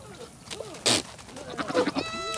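A billy goat in heat gives a loud, harsh bleat near the middle, followed by quieter nasal grunting calls, with light background noise throughout.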